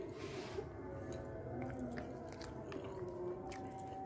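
Someone chews a crunchy Indonesian street snack of coconut pieces with palm sugar, giving close, continuous soft crunching and moist mouth sounds with no talking.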